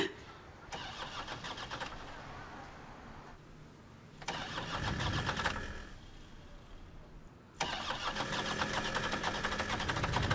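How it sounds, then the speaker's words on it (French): A car engine cranks repeatedly but will not start, in several loud grinding bursts separated by short pauses, close by and with no talk over it. "Ma voiture refuse de démarrer."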